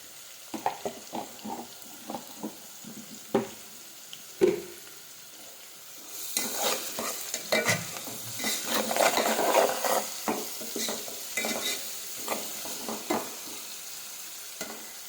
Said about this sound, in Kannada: ಎರಡು ಫ್ರೈ ಆಗ್ತಾ ಇದೆ